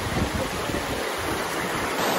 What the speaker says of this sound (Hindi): पानी की रफ्तार देखें आप लोग, रफ्तार कितनी है